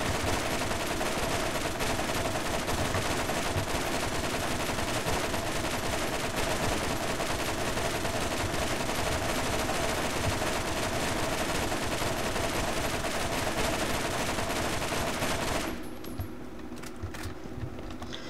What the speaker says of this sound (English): the weapon will then fire out its full magazine if you don't interrupt it